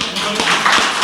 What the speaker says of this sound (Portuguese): E vamos levantar, dar uma salva de palmas a Jesus Cristo.